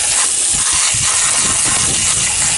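Cleaner sprayed onto parts of a 2010 Goodman GSZ13 heat pump during a deep clean: a loud, continuous close-up hissing spray that runs without a break for the whole stretch.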